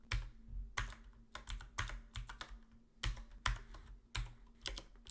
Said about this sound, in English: And then we'll type the name of the file.